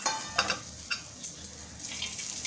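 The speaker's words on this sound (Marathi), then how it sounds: "आपण जे खोबरं घेतलंय ते भाजून घेऊया आपण" Coconut pieces dry-roasting in a pan give a faint, steady sizzle with a few soft scraping stirs, quiet and close with no talking.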